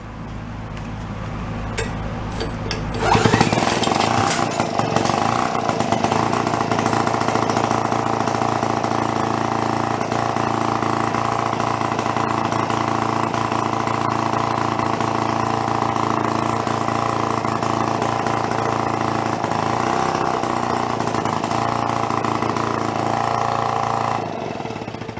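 An old generator engine salvaged from a town dump starts after a few seconds of low rumble and then runs steadily, loud and close with a rough mid-pitched drone, before dropping off right at the end.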